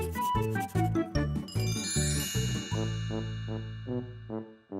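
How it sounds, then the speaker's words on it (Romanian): A small blue toy bell in a Romanian children's cartoon rings out in a bright, tinkling melody of repeated chimes, then one long note that fades away. "Un clopot"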